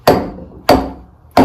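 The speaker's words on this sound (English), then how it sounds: "the hide hammer won't damage the paintwork on the end here, and means that we can hit it through" A hide hammer strikes the rear axle of a 1960 Bolens Ride-a-matic: three loud, close, dull thuds about two-thirds of a second apart, each ringing briefly before fading.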